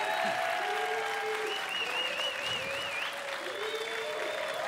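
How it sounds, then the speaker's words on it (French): Studio audience applauding on the French television game show Le Bigdil, a steady wash of clapping that holds level throughout, with music and a wavering tone sounding over it. "Vous pouvez même applaudir."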